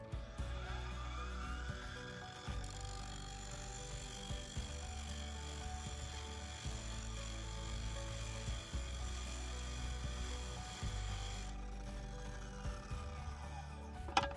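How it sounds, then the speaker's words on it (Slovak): A Parkside Performance 40V cordless XXL angle grinder, model PWSAP 40-Li A1, running a roughing disc at 3000 rpm against a weld gives a steady, loud high whine with rhythmic dips as pressure shifts, throughout and with no talk. "Ďalej pokračujeme hrubovacím kotúčom a vyskúšam odbrúsiť zvar."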